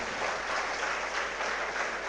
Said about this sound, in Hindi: एक बार जोरदार तालियां हमारे निर्मल सर के लिए।